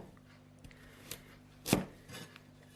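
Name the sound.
knife slicing a large peeled carrot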